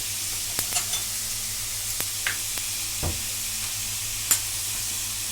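Chopped onion frying in a pan for Sindhi seyal sabzi masala, a steady soft sizzle broken by scattered clicks and scrapes of stirring, close by with no talk.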